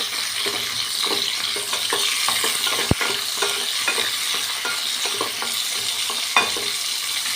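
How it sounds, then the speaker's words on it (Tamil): Dried fish fries in oil in a small pan, giving a continuous close sizzle broken by light stirring clicks and one sharp knock. "இந்த கருவாடை வந்து இப்படி போட்டு பொரிச்சு எடுத்து வச்சுக்கலாம்"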